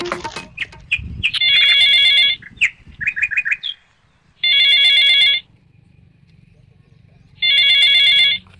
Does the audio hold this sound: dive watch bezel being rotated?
no